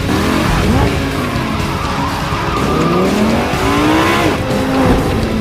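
Loud, continuous tire squealing and skidding from a toy race car sound effect, with rising and falling screeches and engine-like revving filling the whole stretch, close and dominant.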